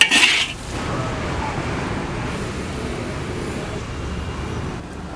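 Stir-fried bamboo shoots with pork are scraped out of a wok onto a plate, opening with a bright metallic clank and then settling into a low, continuous kitchen rumble.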